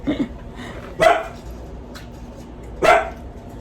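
Dogs bark a few times outside, heard from a kitchen, isolated woofs spaced about two seconds apart against a quiet room background.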